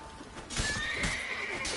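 Roach, a horse in The Witcher 3, gives a loud whinny in the middle of the fighting. Hoof clops and clatter surround it, and there is no talk.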